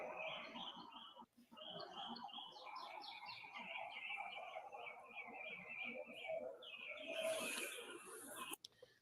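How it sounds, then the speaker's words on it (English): Dense bird chirping and tweeting fills the scene outside a house at a police call, steady and fairly close throughout, with a brief louder burst near the end. "don't hear anything but chirping."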